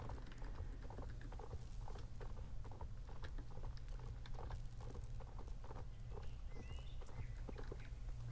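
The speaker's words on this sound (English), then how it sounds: "I love the little horse sounds" Light, quick hoof clip-clops patter steadily at a trot over a low continuous hum, quiet and even throughout, from a horse in the video game Star Stable Online.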